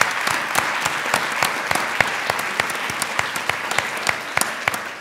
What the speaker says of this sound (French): On peut les applaudir, ils sont lycéens en plus.